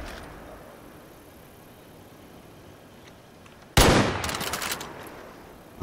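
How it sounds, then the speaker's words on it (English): Gunfire in Far Cry New Dawn erupts suddenly after quiet game ambience, a loud dense burst of rapid shots with a fading tail. "Nana, I'll shoot you"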